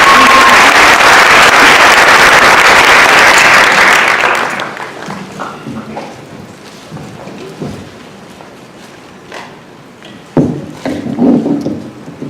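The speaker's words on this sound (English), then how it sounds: "So let's give all the panelists a round of applause." An audience at a discussion panel and release celebration breaks into loud, dense applause for the panelists, which fades after a few seconds into scattered claps, murmurs and room noise.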